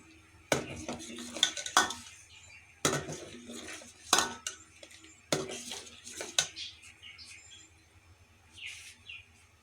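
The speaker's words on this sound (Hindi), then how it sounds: "चीनी को मिक्स कर देंगे।" A spoon stirs sugar into a vermicelli dessert in a metal pot, producing several sharp clinks and scrapes in irregular bursts with quiet gaps between, close and moderately loud, with faint bird chirps in the background.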